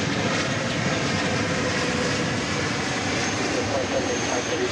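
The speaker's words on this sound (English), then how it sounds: "Cathay Pacific Cargo arriving from Los Angeles. 7478." A Cathay Pacific Cargo Boeing 747-8 arrives at Dallas Fort Worth airport with a loud, steady engine roar and rumble throughout, while a voice talks underneath.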